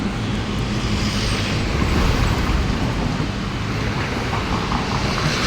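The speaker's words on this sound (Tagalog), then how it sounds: "Ayan, ito yung mga sasakyan." Road traffic on a street in Taiwan makes a steady, loud roar of passing vehicles, a continuous rumbling wash with no clear breaks and no speech.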